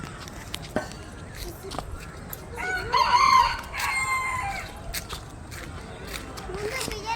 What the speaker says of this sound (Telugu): ఇంకా కోళ్ళు ఇదిగోడు.